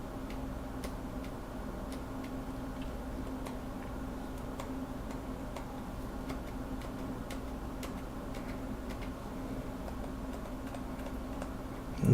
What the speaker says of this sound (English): there's almost no noise now when the stabilizer tops out.